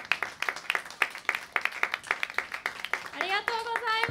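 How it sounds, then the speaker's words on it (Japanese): Audience at a live stage show at Tokyo Tower claps in a steady, even rhythm for several seconds, loud and close, before a voice cuts in near the end. "もう一度大きな拍手をお願いいたします。"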